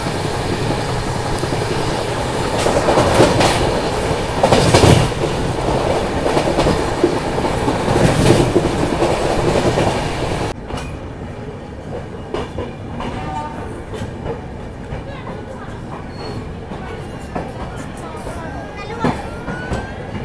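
Mahakoshal Express rolling past the Agra–Jhansi MEMU train at Karari station, with loud rumble and clickety-clack of wheels for about ten seconds, then a quieter steady running hum with faint rail clatter.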